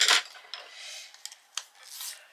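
A maroon colored pencil is sharpened in short scraping, rasping bursts with brief pauses between turns, close and fairly quiet with no talking.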